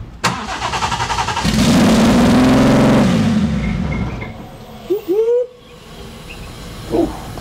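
A 600HP BMW B58 turbo straight-six in a BMW F30 drift car fires up on a dyno with a sharp crank, then a loud sustained roar and rev that drops off, followed by a few brief blips, close and alone.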